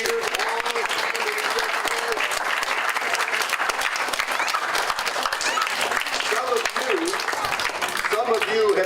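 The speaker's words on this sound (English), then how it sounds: "Can you give a round of applause for all those readers?" A crowd at a summer reading and exercise program ceremony applauds its readers, sustained loud clapping from many people throughout, with a voice faintly audible underneath and some brief cheering.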